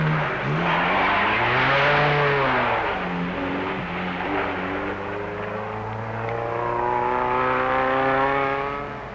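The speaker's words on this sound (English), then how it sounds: "But the going proves too tough for many of the cars." Rally cars labouring over rough, cruel roads climbing out of the Rift Valley, engines rising and falling in pitch as they pass, loud and continuous with no voices.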